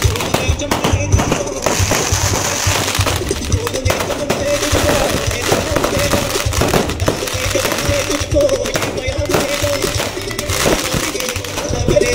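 Rapid firecracker bursts crackle densely and continuously at a child's birthday party, sharp pops layered over a busy background of voices and crowd noise.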